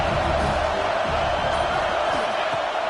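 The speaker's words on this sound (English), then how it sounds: "This crowd bringing the energy and noise early." Dense, steady stadium crowd roar at an Oregon vs USC football game fills the space, a loud wash of many voices cheering without pause.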